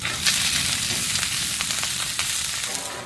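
A fish fillet fries in a hot pan with lemon zest, giving a steady, loud, bright sizzle that crackles evenly throughout with no voices.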